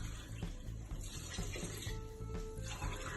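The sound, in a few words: water poured into rice and spinach paste in cooker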